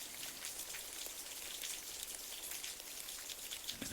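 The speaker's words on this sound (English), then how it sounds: "Now you're hearing the rain slowly subsiding, becoming less and less." Steady rain patters on surfaces in a soft, even hiss of droplets, fairly faint and continuous without voices, easing toward a drizzle.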